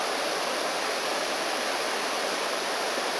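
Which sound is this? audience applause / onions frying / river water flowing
river water flowing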